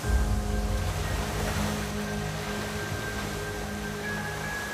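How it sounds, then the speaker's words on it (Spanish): Waterfall at Saltos del Monday pouring an immense volume of water, heard as a steady, dense roar with no breaks, loud and unchanging throughout. "Múltiples cascadas vierten sus aguas en él, como esta de los Altos del Monday, un inmenso volumen de agua con una potencia inigualable."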